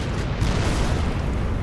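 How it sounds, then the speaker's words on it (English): Cannon fire in the video game Bloodborne: a loud, dense explosive boom with a rumbling, broadband blast that fills the whole moment without a clear decay. "Nice, that was good cannon."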